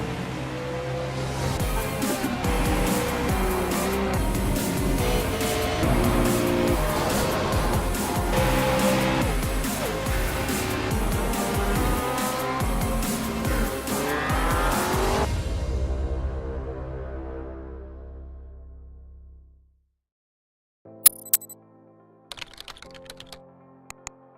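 Race cars in the iRacing sim at Suzuka, engines roaring loud and continuous with layered whine for about fifteen seconds, then fading out, followed by silence and a few faint clicks.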